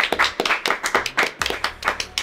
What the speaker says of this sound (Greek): Πάμε ένα χειροκρότημα.